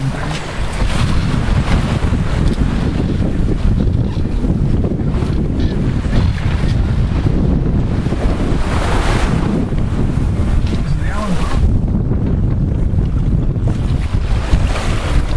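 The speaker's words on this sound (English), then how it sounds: "What a great day sailing." Sailboat under way in strong wind and waves, with loud continuous wind buffeting the microphone over rushing water and hull wash, steady and dense throughout with no clear pauses.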